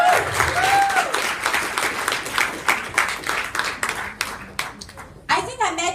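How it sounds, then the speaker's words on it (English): A crowd claps and applauds for several seconds, loud and dense, fading out as a voice begins to speak at the end. "give her a big round of applause"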